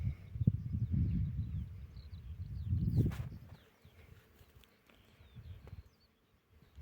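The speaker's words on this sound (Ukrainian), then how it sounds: "Ну, Гул стоїть, як на пасіці бджілки працюють." Bees buzzing over a flowering mustard field in spring, a soft, low humming drone that swells and fades as insects pass near the microphone, with faint birdsong and occasional wind in the background.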